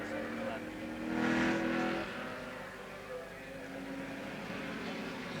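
A 1970 touring car runs gently across a wet causeway at Warwick Farm during a Tasman Championship race, its engine a steady mid-distance drone that swells briefly as it passes, with spray hissing beneath and a commentator talking over it.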